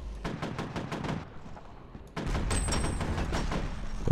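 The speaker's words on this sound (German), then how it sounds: "Glaube ich, gerade eine Granate explodiert." Gunfire and a grenade blast in the shooter game F.E.A.R., heard as rapid bursts of sharp shots, a pause, then a denser, sustained volley at moderate level.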